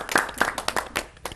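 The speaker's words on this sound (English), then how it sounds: "Applause to our students." A small audience claps for a group of students, producing a short burst of scattered, uneven handclaps that fades within a second or two.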